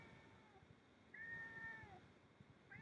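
A cat gives a faint, drawn-out meow, with a shorter mew just before it and another starting at the end, all quiet against low room background.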